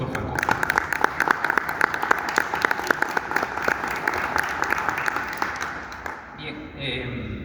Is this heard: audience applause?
yes